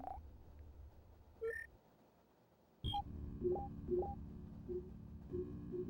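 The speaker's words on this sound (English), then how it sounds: "Video phone." Video phone dialing tones in the Sega Saturn game Enemy Zero: a sequence of short electronic beeps at varied pitches, several quick tones in a row over a low ambient game hum.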